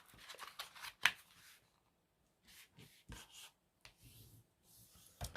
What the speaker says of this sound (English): I'm going to fold that into a mountain fold.